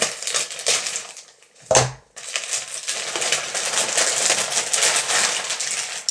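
Package of horse riding gear being opened, close crinkling and tearing of plastic wrapping with a sharp rustle partway through, then continued steady crumpling.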